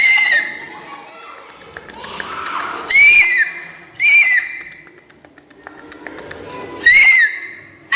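A child imitates a horse neighing with several short, high whinnying cries separated by pauses, close and fairly loud, with breathy voice sounds and background noise in between.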